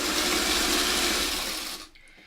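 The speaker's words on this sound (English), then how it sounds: "So now I'm just running a quick seam" A sewing machine stitches a quick seam on a foundation paper-pieced quilt block, its steady whirring motor running close and loud before cutting off near the end.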